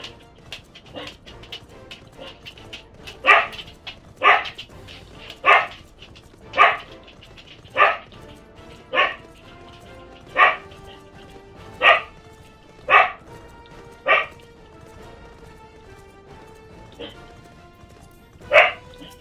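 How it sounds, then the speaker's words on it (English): A pet dog barks repeatedly in the room, about a dozen single sharp barks spaced roughly a second apart at steady intervals, clear and moderately loud over quiet game music. "Sorry about the dog, guys."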